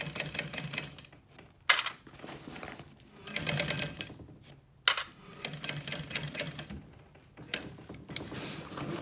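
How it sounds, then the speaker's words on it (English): A sewing machine fitted with a walking foot stitches waterproof backpack fabric in several rapid mechanical bursts, a close clattering rhythm broken by short pauses and sharp clicks. "And then I'm using my walking foot because it's the only one with black bobbin"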